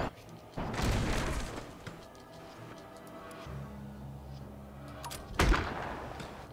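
Ship cannons fire during a naval battle in the Abandon Ship video game, a few deep booming shots with rumbling tails, one near the start and another heavier blast near the end, over a steady low game background.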